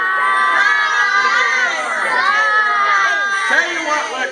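A studio audience at a magic show hollers and shouts together, a loud, dense wall of overlapping voices with children's high cries rising and falling continuously.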